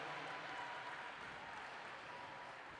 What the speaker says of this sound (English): give a huge round of applause to our first responders, our medics